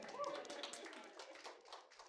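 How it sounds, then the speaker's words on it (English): Brief, light scattered clapping from a small audience, faint and thin, with a few muffled voices mixed in. "Can we get an applause for Clark?"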